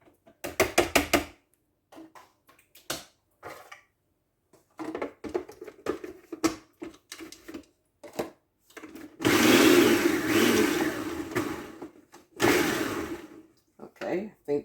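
A food processor chopping lasagna ingredients runs in two loud whirring bursts, the second shorter, with a person talking in between.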